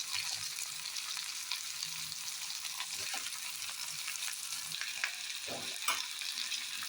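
Tomatoes frying in oil for a masala chicken gravy, a soft, steady sizzle heard at low level, with faint stirring scrapes scattered through it.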